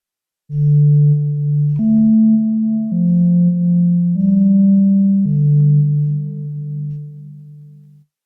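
A Korg NTS-1 synthesizer plays a slow sequence of sustained tones through plate reverb, each note blending into a smooth, shimmering reverb tail.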